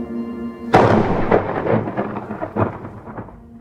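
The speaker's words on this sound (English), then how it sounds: "the storm rolls in." A thunderclap cracks suddenly nearby and rolls into long rumbling over steady rain during a storm on a ride across Virginia, the booming fading gradually while the rain keeps falling.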